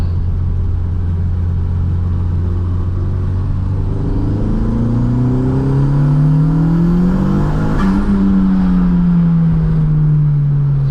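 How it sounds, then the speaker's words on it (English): Toyota Mk2 on Toyo R888R racing tyres pulling hard through second gear, its engine note climbing steadily in pitch over several seconds with a loud, continuous rumbling drone and no talking. "So I'll just do a second gear pull once this guy gives me some space."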